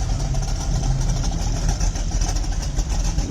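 Classic cars idle and rumble along a Memorial Day parade route in St. Marys, Pennsylvania, a steady loud low engine drone with no pauses and no speech.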